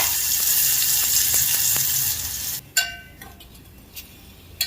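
A spoonful of green chili paste hits hot oil with crackling mustard seeds and garlic pieces, giving a loud, steady sizzle that cuts off abruptly, followed by a few sharp spoon clinks against the pan.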